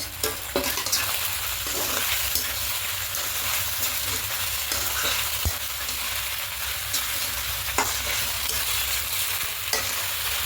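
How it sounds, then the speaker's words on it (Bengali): Semolina pasta tossed with tomato sauce in a pan, a constant hissing fry under repeated scraping strokes of a spatula, with a few sharper clacks against the metal; close and fairly loud, no talking. "এবার দেব টমেটো সস খুব ভালো করে সবগুলো মিশিয়ে নেব"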